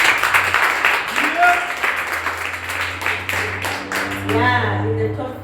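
Applause from an audience at a competition, steady clapping over a hum, with a voice and cheering mixed in and a rising tone near the end.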